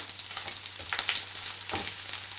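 Sun-dried tomatoes fry in a hot pan, giving a steady crackling sizzle with bursts of spattering and a few stirring scrapes, close and fairly loud with no voices.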